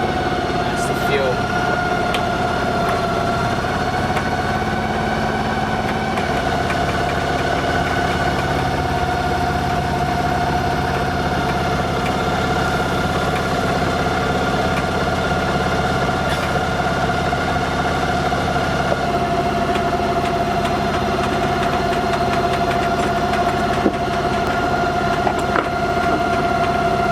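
A boat engine idles steadily at anchor on a reef in Princess Charlotte Bay, Queensland, giving a constant, even drone with tonal hum throughout, and voices can be heard talking over it.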